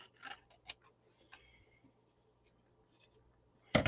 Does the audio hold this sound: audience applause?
no